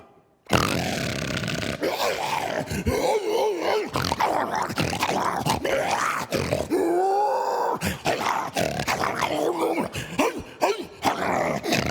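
A voice imitates a dog with gruff growls, grunts and barking roars, delivered continuously and loudly up close.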